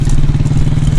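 A motorcycle engine on a Friday group ride runs close and loud for a moment, with a steady low rumble and rapid throbbing pulses.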